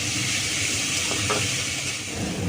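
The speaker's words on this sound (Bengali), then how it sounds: "এটা একটু ভাজা ভাজা করবো।" Vegetables with salt and turmeric fry in a hot pan, giving a continuous loud, close sizzle and hiss that holds steady throughout without talk.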